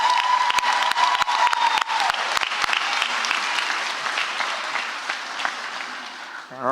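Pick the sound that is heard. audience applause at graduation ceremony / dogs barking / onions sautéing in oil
audience applause at graduation ceremony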